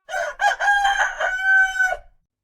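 A rooster crows a single long cock-a-doodle-doo, close and loud, with a few choppy opening notes rising into a sustained bright call that cuts off cleanly into silence.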